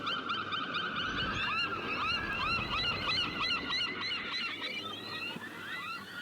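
Seaside birds, gulls, call continuously in a loud chattering chorus of honking, squawking cries close by, with no speech.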